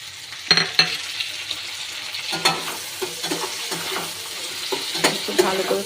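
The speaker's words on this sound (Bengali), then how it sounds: "একটু ভালো করে কষে নেব" Tomato and green chili sauté in ghee in a pan, a soft steady sizzle broken by repeated scraping stirs of a spatula, close and without talk.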